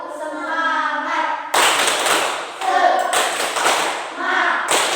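A classroom group performing tepuk semangat spirit clapping, bursts of sharp rhythmic claps from many hands alternating with voices chanting and talking, close and loud.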